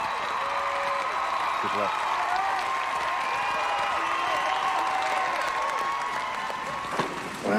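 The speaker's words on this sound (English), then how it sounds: "Let's give him a big round of applause." Steady crowd applause at a high school shootout, a continuous wash of clapping with a brief spoken voice over it and a few louder bursts near the end.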